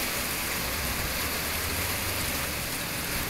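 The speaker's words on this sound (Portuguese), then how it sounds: "Chovendo em Santos." Steady, dense hiss of evening rain falling continuously in Santos, Brazil, loud and close, with no voices or pauses.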